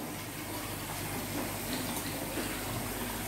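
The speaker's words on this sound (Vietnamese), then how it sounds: "Nước ở đây là cấp nước nóng nè. Nếu bạn muốn nước nóng á, bạn vặn ở đây." Hot water running from a tap in a resort bathroom with a massage bathtub, a loud steady gushing stream close by, with no voices.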